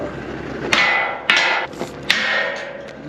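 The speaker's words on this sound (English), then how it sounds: "I think it's a job for the hammer" A hammer strikes a stone jammed in tractor machinery in a stony field, three sharp metallic clanks ringing out roughly half a second apart, close and loud with a lingering ring after each blow.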